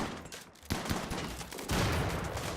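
Gunfire during a siege attack in the video game Rimworld Alpha 17, a loud dense burst of rapid shots and crackling reports, repeated in clusters with a heavier volley near the end.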